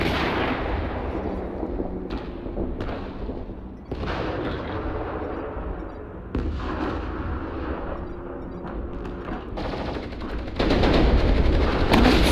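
Heavy combat from MechWarrior Online, with dense, continuous rumbling bursts of artillery-like fire and explosions while an airstrike is called in, loud throughout and swelling near the end, with no talk.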